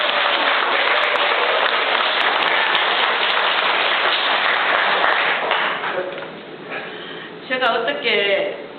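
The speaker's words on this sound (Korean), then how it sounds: "감사의 박수를 드립니다." Dense, even applause of thanks from a congregation at a New Year dharma service lasts about six seconds, then dies away as a voice begins speaking.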